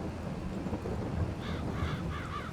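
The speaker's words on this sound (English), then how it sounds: "Get off my crop. Crows." Crows caw over a seeded field in Farming Simulator 22 during rain, with three or four raspy caws in a quick series, fairly faint over a steady wash of rain and low rumble.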